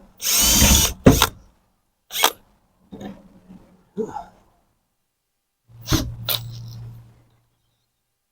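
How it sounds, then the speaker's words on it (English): Drilling a hole through sheet metal with a dull bit comes as several short bursts, the first and loudest about a second long, then brief stuttering whirs with pauses and a low hum near the end. "I got to drill a hole through that sheet metal."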